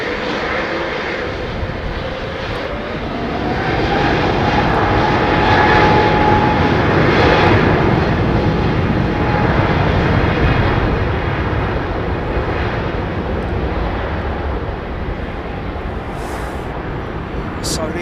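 Aircraft engines spool up at London Heathrow Airport with a continuous loud roar and a faint rising whistle that swells midway, then holds steady at a constant level.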